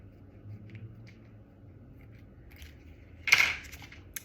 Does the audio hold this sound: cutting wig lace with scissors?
yes